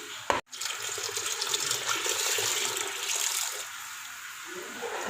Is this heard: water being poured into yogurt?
yes